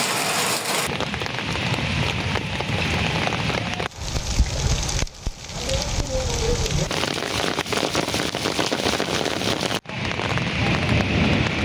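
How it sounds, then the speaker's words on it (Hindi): Torrential rain pouring down in Islamabad, a loud, dense, continuous roar of drops on surfaces, broken by a few abrupt cuts between shots. "इस्लामाबाद में मूसलाधार बारिश"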